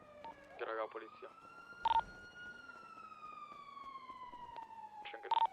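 Police siren in a GTA roleplay game, a clear wail gliding slowly down and punctuated by short sharp electronic yelp bursts near the start and end.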